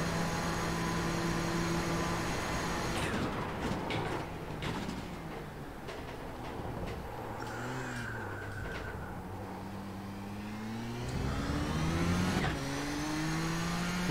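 Nissan GTP race car in iRacing at Spa, engine droning steadily throughout with pitch sweeping up and down through gear changes, rising again toward the end as the car accelerates out of a corner.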